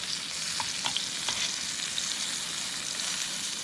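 A mushroom browning in a hot pan over a forest campfire setting, an even close crackling sizzle running throughout with a few tiny pops, no voices.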